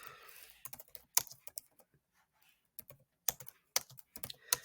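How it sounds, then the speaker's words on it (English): Typing on a computer keyboard, with irregular bursts of crisp key clicks separated by short pauses, close and fairly quiet against a near-silent background. "And then we want to begin typing."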